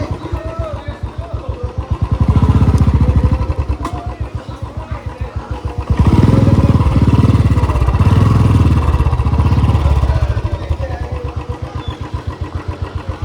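A Royal Enfield Bullet motorcycle, taken out for a dirt ride, idles nearby with a rapid thumping beat and revs up loudly twice, one short burst and then a longer sustained roar, before settling back to idle.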